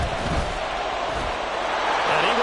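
A Madden 24 stadium crowd roars continuously, a dense, loud wash of cheering that swells slightly toward the end.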